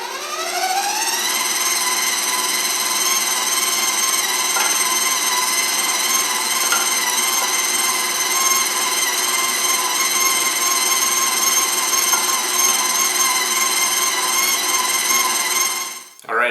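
An electric meat grinder runs loudly and continuously while grinding venison and pork fat for burgers, a steady high-pitched motor whine that holds through the whole stretch and cuts off at the end.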